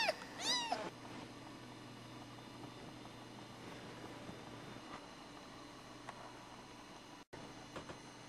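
Three-and-a-half-week-old kittens give a few high, close meows at the very start, then only faint rustling and low background hum follow.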